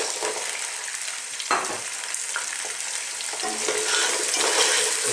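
Fresh mussels sautéing with onions in a pan, a loud close sizzle with a sharp clatter of shells being stirred, the frying hiss building steadily.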